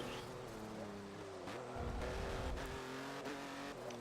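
A BMW i8 all-wheel-drive car in the Forza Motorsport 7 racing game keeps up a steady engine drone with shifting pitch, tire noise and brief clunks, fairly quiet, with no voices.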